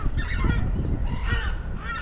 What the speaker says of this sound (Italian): Te l'ho detto che era un'anatra.